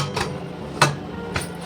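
A metal lid set onto a cooking pot of dal with water, salt and turmeric on an induction cooktop in a home kitchen, giving a few sharp clinks, one louder near contact, amid faint room noise.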